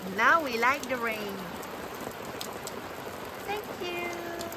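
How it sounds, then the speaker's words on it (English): Rain falls steadily on a homestead in central Portugal, a soft continuous patter throughout, while a voice speaks in a rising and falling tone near the start and again briefly near the end. "Now we like the rain."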